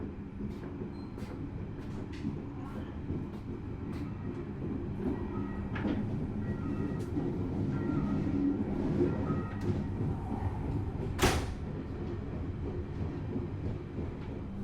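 Kertajaya passenger train departing Babat station at night, a steady low rumble and rolling clatter of carriages with intermittent metallic clicks and squeals, one brief louder screech near the end, no voices.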